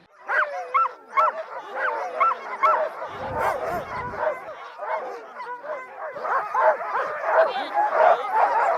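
A pack of sled dogs barks, yips and whines excitedly all at once, a dense, continuous chorus close by with a brief rumble underneath.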